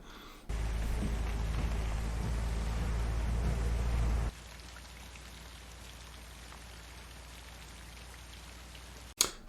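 Steady, heavy rain pours in a scene from the film Psycho, a loud dense hiss that drops suddenly to a softer, thinner rainfall partway through, ending with a brief sharp knock.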